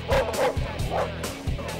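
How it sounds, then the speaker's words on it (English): Trained dogs barking at a grizzly bear in the wild, a rapid, continuous series of loud, rhythmic barks from close by. "The bear is not enjoying this at all, being barked at."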